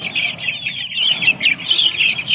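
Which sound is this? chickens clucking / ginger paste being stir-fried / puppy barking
chickens clucking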